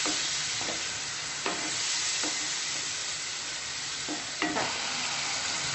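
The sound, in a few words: stirring tomato masala mixture cooking in oil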